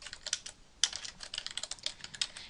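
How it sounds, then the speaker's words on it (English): Rapid, uneven clacking of keys on a computer keyboard while an appointment reference is entered into GoldMine software, close and clear with no talking. "when I'm typing in the reference, I make sure it's clean and neat, there's no spelling mistakes"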